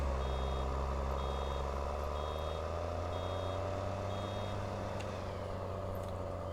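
A tractor in Farming Simulator 19 sounds a steady series of evenly spaced reversing beeps over a low, constant engine drone, with a brief clunk near the end.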